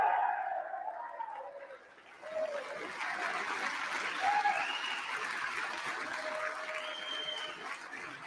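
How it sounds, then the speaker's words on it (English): Applause fills the U.S. House chamber during the vote for Speaker, a sustained patter of many hands clapping with faint voices calling out beneath it. "You'll now see the applause."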